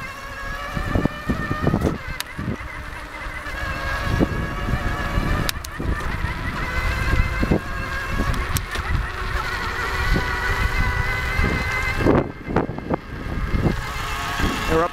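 A homemade electric bicycle with a bottom bracket drive accelerates through its gears toward top speed, about 27 mph. Its motor makes a steady, loud, whining hum with shifting tones, broken by brief clicks and knocks.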